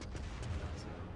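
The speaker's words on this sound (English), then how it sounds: "I tried another round of AP rounds at him" A battleship in World of Warships fires a salvo of armour-piercing shells, heard as a deep, rumbling boom with a rolling low-end tail over roughly a second, moderately loud, with no talking.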